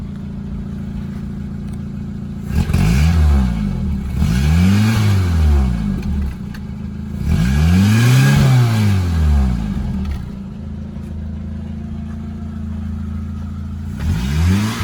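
A 1984 Honda CRX hot hatchback engine revving repeatedly, rising and falling in several loud sweeps over a steady idle, close by with no talking.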